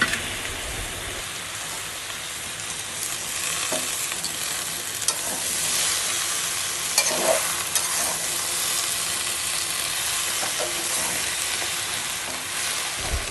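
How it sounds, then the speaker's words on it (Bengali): Malabar spinach leaves are stirred in a hot frying pan with oil, cooked with a hilsa fish head, giving a steady close sizzle and scraping hiss throughout with no talking. "এবার আমরা দিয়ে দেবো এর মধ্যে পুঁই শাকের পাতাগুলো, এর মধ্যে ভালো করে দিয়ে মিশিয়ে নেব।"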